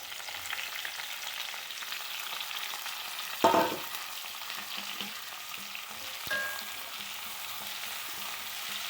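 Chopped onions fry in coconut oil with a steady, hissing sizzle throughout, broken by a sharp clatter near the middle and a lighter knock a few seconds later, with no voices.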